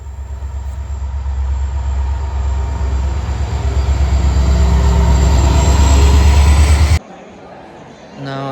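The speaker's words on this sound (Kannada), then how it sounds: "ಇದು ಒಂದು ಟ್ರೈನ್ ಹೋಗಾಯ್ತಂತ ಅಂದ್ರೆ, ಈ ಸಲ ನಾವು ಬಂದಿತ್ತಾಗ ಮತ್ತೊಂದು 2 ಟ್ರೈನ್ ಬರಾಕತ್ತಾವು." A train rushes past at night, a loud rumbling roar with rhythmic wheel clatter building over about seven seconds, then cutting off abruptly to a low background hum.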